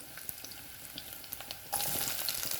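Garlic, pepper and tomato frying in a pan for a Jamaican liver and onion breakfast, a soft steady sizzle that jumps suddenly louder and brighter partway through as more goes into the hot oil.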